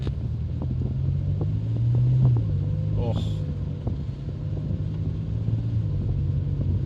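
Steady low rumble of a Rover KV6 V6 engine running in an MG ZT 190, a smooth continuous drone with a slight swell partway through, while someone briefly speaks over it.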